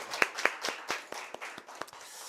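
A church congregation claps during a Sunday service, with about a dozen sharp, uneven claps and a thin spread of applause behind them, faint and somewhat distant.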